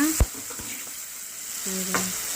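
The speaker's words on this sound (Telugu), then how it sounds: "ఇదైతే బాగా అయితే ఫ్రై చేసుకోవాలన్నమాట టమాటాలు అయితే బాగా జరుగుతున్నాయి అన్నమాట" Tomatoes fry in a pan for a cabbage stir-fry in a home kitchen. A steady soft sizzle runs under a few sharp utensil knocks and scrapes from stirring.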